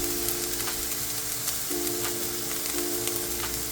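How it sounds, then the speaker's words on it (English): Vegetables sautéing in a pan make a steady close sizzle and crackle, with a faint tonal hum coming and going underneath and no voices. "So I'm giving my veggies a quick saute."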